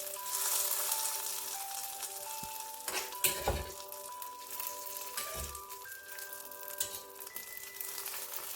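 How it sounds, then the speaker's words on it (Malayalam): Mustard seed and curry leaf tempering poured into a pumpkin and toor dal curry gives a steady, close sizzle with a few sharper bursts and clinks partway through, with no talking. "ആ കറിവേപ്പിലയും മൂത്ത് കഴിഞ്ഞ് നമുക്ക് ഗ്യാസ് ഓഫ് ചെയ്യാം നമ്മുടെ കറിയിലേക്കിത് ഒഴിച്ചു കൊടുക്കാം"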